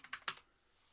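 Password typed on a computer keyboard, four or five quick soft key clicks in a short burst, then quiet.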